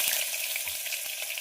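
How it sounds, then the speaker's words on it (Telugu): Chopped onions hit hot oil for a tempering, giving a loud, continuous bright sizzle with small crackles and pops, close up and with no voices. "ఆయిల్ కూడా హీట్ అయిపోయింది. ఇందులోకి ఉల్లిపాయలు వేసేసుకుందాం"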